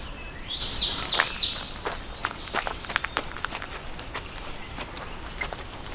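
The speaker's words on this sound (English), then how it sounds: "I just absolutely love the bird songs this time of year" Birds sing in spring woods at Shawnee State Park, a bright warbling phrase up close at first, then scattered chirps and calls amid soft footsteps on the forest floor.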